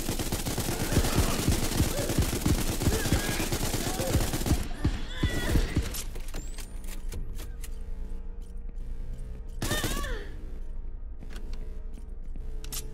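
Gunfire in the space video game SpaceBourne 2, dense rapid automatic shots rattling for several seconds, then sparser bursts over a lower hum.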